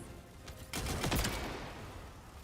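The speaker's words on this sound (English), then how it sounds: "That explosion is overpowered, like completely" An explosion in a video game bursts out fairly faint, a rapid crackling blast with several sharp pops clustered in the middle, then fading into a low rumble.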